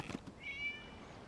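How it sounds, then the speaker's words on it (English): A cat in the video game Genshin Impact gives a short, faint meow that rises briefly and fades, heard alone with no talk. "It was just a cat."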